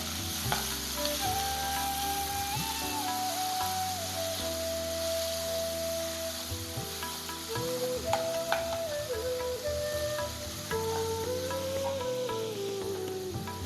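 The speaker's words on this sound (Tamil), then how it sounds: "வெங்காயம் நல்லா வணங்கட்டும் பொன்னிறமாக வணங்கட்டும்" Two large sliced onions fry in hot oil for a prawn gravy, a loud, steady sizzle with dense crackle running throughout, close up and unbroken, while a faint tonal hum drifts underneath and no one speaks.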